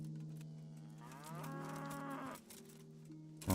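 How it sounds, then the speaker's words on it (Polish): A cow in the video game Kingdom Come: Deliverance gives a single long, drawn-out moo that rises and then fades, heard over a quiet steady background hum. "O, krowę zostawili?"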